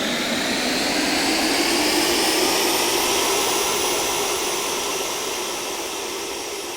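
A steady, loud jet whine and roar from an RC jet taking off in the Aerofly RC simulator, sustained throughout and easing slightly toward the end, with no talking.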